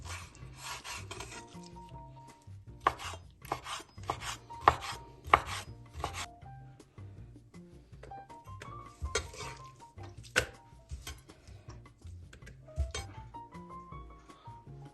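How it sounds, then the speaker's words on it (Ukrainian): A knife slices chicken liver into strips in quick bursts of crisp cuts separated by short pauses, close and clear, with a faint tonal background underneath. "Я наріжу смужками."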